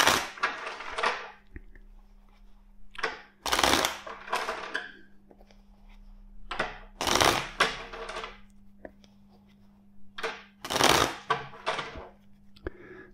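Tarot cards riffle-shuffled in several bursts, close and crisp, separated by short pauses, over a low steady hum.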